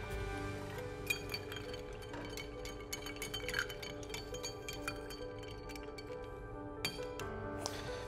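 A large ice cube goes into a bourbon cocktail glass at the Clift Royal Sonesta Hotel bar in San Francisco, giving close, crisp glassy clinks and ticks that keep sounding irregularly as the ice settles, with no speech.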